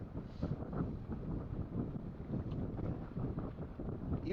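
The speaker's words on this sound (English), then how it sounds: "So just too much wind for these boats" Strong wind buffets the microphone at a vintage sailing race, a low, uneven gusting rumble that never lets up, with no speech.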